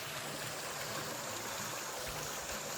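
Steady hiss of flowing stream water, constant and moderately distant, with no voices.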